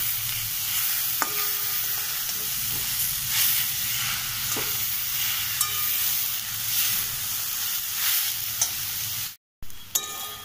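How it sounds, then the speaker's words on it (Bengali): Spices fry and get stirred in a radish curry (mulo ghonto), a dense, close sizzle with repeated scraping strokes of a spatula against the pan, briefly cutting out near the end. "মশলা দিয়ে ভালো করে কষিয়ে নিচ্ছি।"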